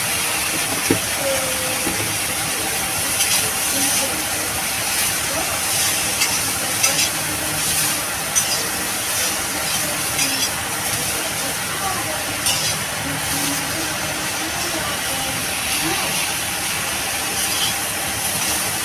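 Mustard flowers sprinkled with a little turmeric fry in a pan with a steady, even sizzle and hiss that runs without pause, with faint stirring knocks now and then.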